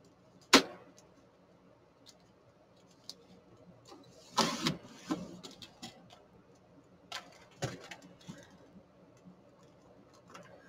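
A piece of craft paper is cut down to size with a series of sharp clicks, snips and short scraping rasps, some loud and close, spaced irregularly over quiet room tone.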